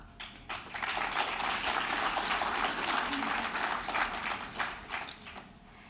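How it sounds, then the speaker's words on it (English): Graduation ceremony audience applauding a graduate, continuous moderate clapping throughout with a few sharper individual claps standing out and faint voices beneath. "I will ask the graduate to join me in a round of applause"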